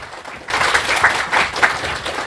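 Audience applause at the opening of a one-day lecture class, a steady burst of clapping that starts after a brief pause and holds for about two seconds at fairly close range.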